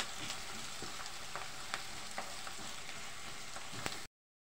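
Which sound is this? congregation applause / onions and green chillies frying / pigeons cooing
onions and green chillies frying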